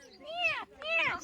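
A voice imitates a cat, giving two drawn-out meows in quick succession, close and fairly loud, with a brief pause between them.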